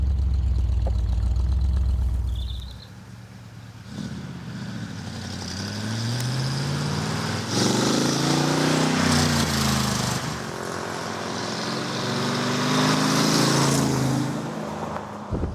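A Dax Rush sports car sets off, its engine idling with a low rumble before revving up through several rising gear pulls, loud and close inside the cabin.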